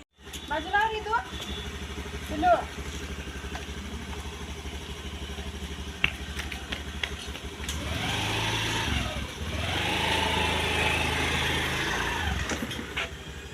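A two-wheeler's engine idles and then revs up more loudly about halfway through as it is moved out through a gate, with some clattering and voices nearby.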